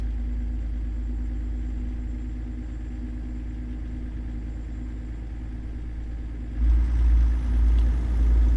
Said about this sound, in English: the sound of the cooling fan kicking on and off